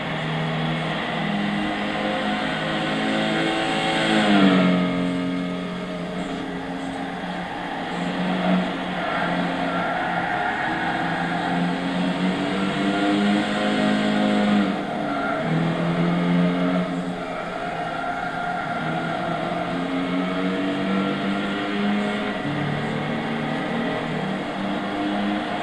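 In Gran Turismo 6, a Mitsubishi Airtrek with a 2-litre 16-valve engine accelerates down a straight. The engine climbs steadily in pitch through repeated gear changes, a continuous in-game drone with no talk over it.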